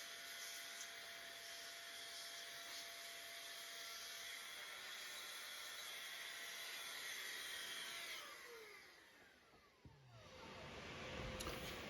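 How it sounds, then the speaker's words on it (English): An air blower blasts dust out of laptop fans and heat sinks with a steady, loud whooshing hiss, its pitch dropping and surging as the airflow shifts near the end. "I am going to blow out these fans or the heat sinks with my air blower"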